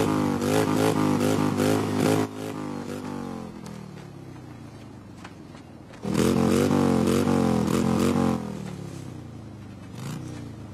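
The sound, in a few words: motorcycle engine revving, Turbo Chopper 750cc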